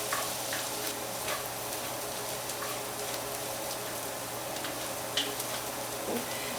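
Rice sizzles and crackles steadily in plenty of hot oil in a pan for seafood paella, a constant close frying hiss with occasional faint stirring ticks and no talking.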